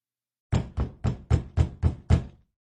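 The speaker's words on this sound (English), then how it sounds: "there was a knock on the door" Seven firm knocks on a wooden door in a quick, even series, close and loud, then silence.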